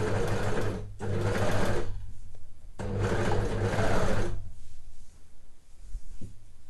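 A sewing machine stitches the hem of a sweatshirt in two long rapid whirring runs close up, with a brief pause between them and quieter handling sounds after.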